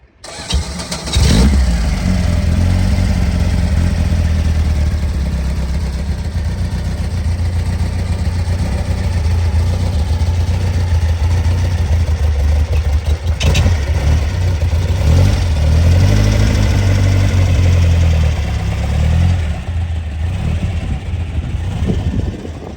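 A 1957 oval-window ragtop car engine turns over and settles into a steady, loud idle, with a couple of brief revs swelling partway through.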